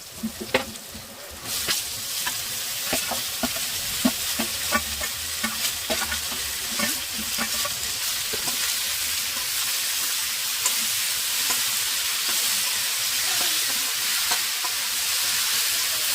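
Ivy gourd stir-fries with ginger and garlic in a pan, giving a continuous loud sizzle with repeated scraping and clacking stirs, denser at first, with no talk.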